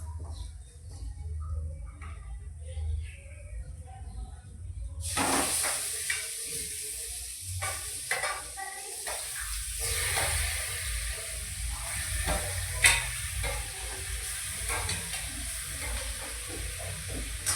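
Chicken pieces drop into a hot pan in a home kitchen and break into a steady, close sizzle with crackles and stirring scrapes, starting quietly then holding loud and continuous.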